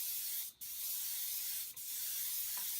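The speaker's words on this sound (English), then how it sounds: "So let's go ahead and spray the candy orange." An airbrush sprays Auto Air candy orange paint lightly onto thin plastic through a skull stencil, a steady close hiss broken by two brief pauses where the trigger is released.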